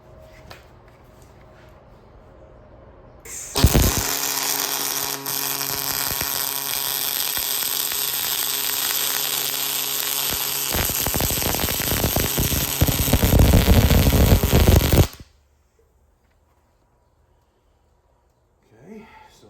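A triple-pass weld being laid on a metal gusset during a repair job, heard as a loud, steady crackling hiss that runs for about eleven seconds after a quiet lead-in, then cuts off abruptly into near silence.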